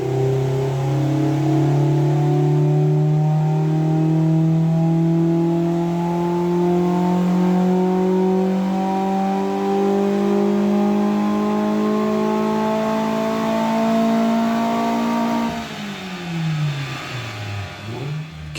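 A Ford Fiesta ST150 Mk6 on a dyno during a power run, its engine climbing steadily through a long loud rev, then dropping off sharply as the throttle closes near the end.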